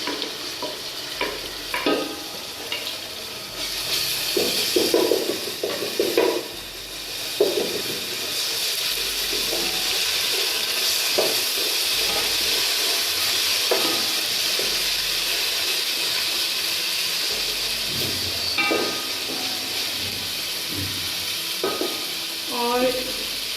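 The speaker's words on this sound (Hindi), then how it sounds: "अब हम इसमें शामिल करेंगे लहसुन अदरक का पेस्ट" Garlic ginger paste sizzles in ghee with golden-fried onions in a pan, a steady hissing fry under repeated scraping stirs of a spoon, close and moderately loud for kadhi pakora curry.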